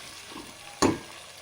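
Onions frying in a pan for soya pulao, a soft steady sizzle broken by one sharp loud scrape or stir near the middle, close by with no voices.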